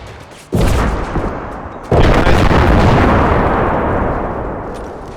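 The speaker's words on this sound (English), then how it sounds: "Let's throw a few grenades on these barbaric pirates." Grenades explode in the Empire: Total War video game. Two loud, heavy booms land close together, followed by a sustained, rolling rumble of crackling blasts that slowly fades.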